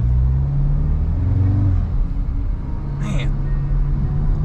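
An Audi S3 8Y with its exhaust resonator deleted, engine droning loud and steady as it revs and pulls close by, a deep continuous rumble with rising tone, with someone talking over it.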